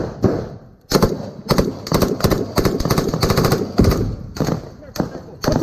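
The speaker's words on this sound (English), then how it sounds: "He was shooting from the second window." Gunfire in a firefight against a shooter in a building window: loud close bursts of rapid automatic fire with short gaps, continuing nearly without pause, with shouting voices mixed in.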